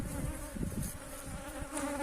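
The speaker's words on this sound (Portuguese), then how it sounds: "Estamos fazendo a revisão das abelhas." Honeybees buzz around the hives at an apiary during an inspection, a dense steady droning hum with individual bees passing close, heard alone without speech.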